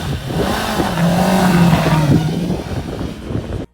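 A QJMOTOR SRK 800 RR motorcycle engine revs up loud and close, pitch climbing and holding before dropping off, with a steady engine roar throughout.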